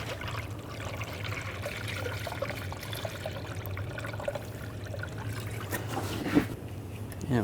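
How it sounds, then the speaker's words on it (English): Air and coolant escape in a steady hiss and trickle as the cooling system of a 2008–2012 Jeep Liberty 3.7L V6 is loosened during a thermostat replacement, with a voice talking over it. "as you loosen it up, you're going to hear some air come out. And the coolant's going to go down"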